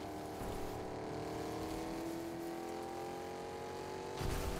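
Car engine driving in Fortnite Chapter 4 Season 4, a steady droning hum with sustained tonal whine, holding level throughout and swelling briefly near the end, no talk.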